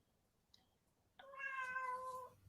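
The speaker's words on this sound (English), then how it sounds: "That's my Miss Kitty" A pet cat meows once, a single drawn-out, fairly loud and close call after a moment of quiet room tone.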